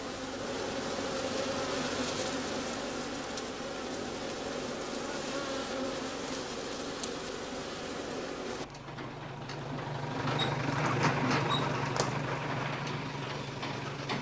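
Honeybees hum in a dense, continuous buzz around straw skep hives set out on a heather heath, many insects droning close by with individual wingbeats passing, swelling slightly toward the end.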